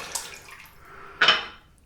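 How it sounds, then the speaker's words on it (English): A brief wet splash of water near the start, then a louder sloshing burst about a second later as water is worked into a shaving brush. "So I'm going to add some water to this brush"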